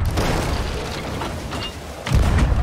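Ship cannon fire in the pirate video game Sea of Thieves, heard as a steady low rumbling barrage of booms that swells into a louder, heavier blast near the end.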